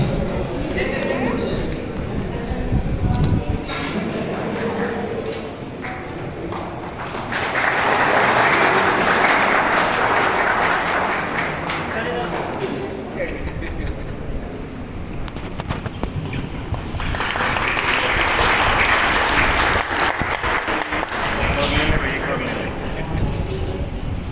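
Sustained applause at a school retirement ceremony, with two loud swells of clapping from a large gathering, broad and continuous, under a voice speaking over a public address system.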